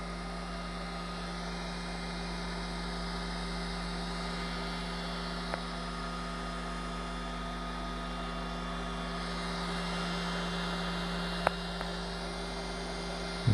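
Cooling fan of a Creality Ender 3 V3 SE 3D printer running steadily, a constant low hum and whir with a couple of faint clicks and a small knock at the end.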